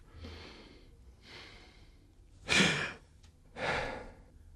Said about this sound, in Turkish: Şimdi de derin nefes alıyorsunuz